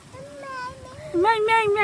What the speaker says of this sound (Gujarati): જો મીંદડી બોલે